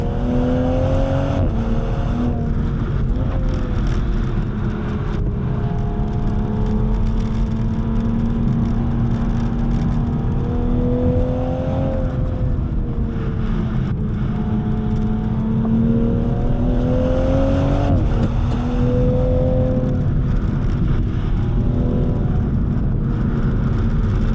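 A 2021 Toyota GR Supra with a 3.0 engine is driven along a winding road, heard from inside as a loud, continuous engine drone whose pitch repeatedly rises and falls with throttle and gear changes, with no talking.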